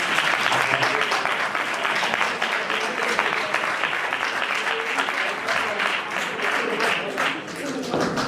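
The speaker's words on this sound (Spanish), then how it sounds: "quería que dierais un fuerte aplauso" A conference audience applauds loudly to welcome a journalist speaker at a talk on interwar propaganda and posters. Dense, sustained clapping fills the whole stretch, steady and close with slight fading near the end.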